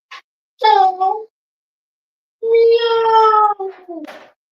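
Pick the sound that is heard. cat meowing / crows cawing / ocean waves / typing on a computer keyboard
cat meowing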